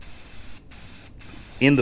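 Rust-Oleum Automotive Black spray paint is sprayed onto a sign in a few short bursts of close hiss separated by brief gaps, ending as a voice begins speaking.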